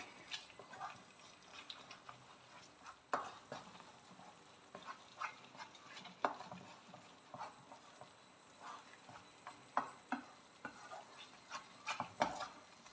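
A spoon taps and scrapes against a pan in an irregular rhythm as milk peda dough made from milk powder is mixed with ghee. The clicks are soft and close, with no talk.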